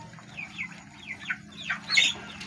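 A weakened hen clucks in a short series of soft, evenly spaced calls, ending in a slightly louder, squawkier cluck, close by over a low steady hum.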